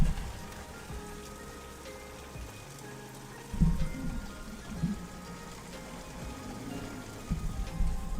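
Heavy rain from a storm pours steadily on a surface, a dense continuous hiss with occasional louder thumps and spatters, no voices present.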